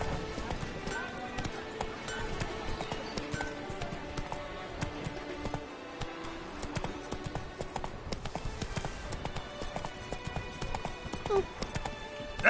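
The horse Roach gallops in The Witcher 3: Wild Hunt, a steady run of clip-clop hoofbeats with an occasional whinny, heard alongside game music and a voice speaking.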